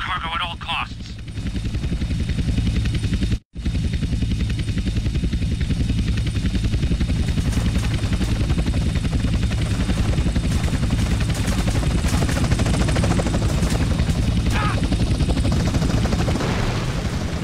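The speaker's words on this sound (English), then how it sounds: "Two agency choppers coming in on an intercept." Agency helicopters close in during a GTA: San Andreas mission, a loud, steady rotor roar filling the scene with a brief sharp cutout early on and faint bursts of gunfire under it.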